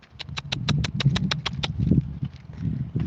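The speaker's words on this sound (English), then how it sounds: "She's using the same clicking sounds I'm using to communicate to him." A quick run of about a dozen sharp tongue clicks made to cue a horse, evenly spaced and fairly close, over a low rumbling outdoor background, then fading into softer clicks.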